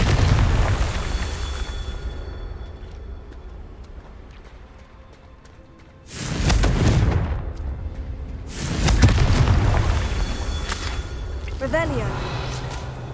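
Confringo spell blasts in the Hogwarts Legacy video game, two loud broadband bursts erupting over a steady rumbling game background, each swelling and lingering for a couple of seconds.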